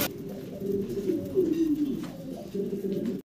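A pair of fancy pigeons coos softly nearby, with low, throaty rolling calls over a quiet background.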